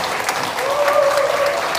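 Wedding guests at a ceremony without an officiant break into a brief, full round of applause that holds steady for its whole length, with a faint tone running under it.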